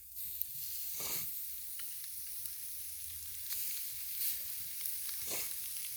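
Catfish fillet dropped into a very hot skillet for blackening, giving a steady close sizzle and frying hiss throughout with a couple of brief louder crackles.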